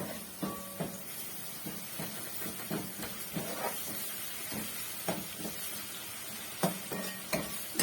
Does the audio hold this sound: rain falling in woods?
no